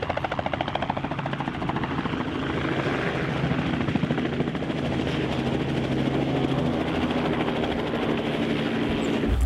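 A helicopter flies nearby, its rotor chopping in a steady rapid pulse under a constant loud engine roar that holds throughout without a break.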